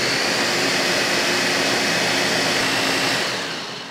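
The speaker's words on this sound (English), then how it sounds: "blend this till it's one big liquid" A Ninja blender whirs steadily as it purees honeydew melon and mint into a drink, a loud, continuous motor roar with no talking, easing off slightly at the very end.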